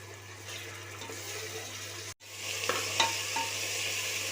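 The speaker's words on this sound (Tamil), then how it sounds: "இப்போ இஞ்சி பூண்டு நல்லா வதங்கிருச்சு" Ginger garlic paste sautés in a pan for mutton biryani, giving a steady moderate sizzle with a brief cut midway, then scraping stirs and a couple of sharper clinks.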